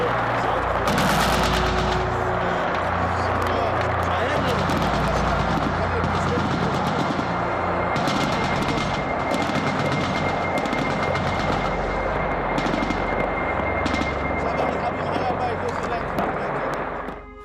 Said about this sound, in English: this is the kind of armor-piercing weaponry that's being used against civilians, innocent civilians